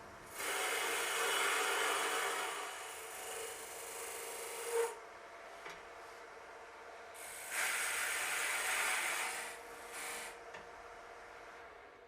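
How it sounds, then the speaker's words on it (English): A lathe tool scrapes a tenon onto a spinning wood blank in two bursts of raspy, hissing cutting, each a few seconds long, separated by quieter moments and light knocks. "Form a tenon on both ends of the blank."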